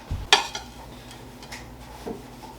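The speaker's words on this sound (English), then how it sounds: "I think I'm going to grab a spoon" Spoon grabbed with a sharp metallic clink, then light scraping and stirring in a buffalo pemmican mixture, close and brief with a couple of softer knocks after.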